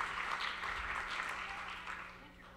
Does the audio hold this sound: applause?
yes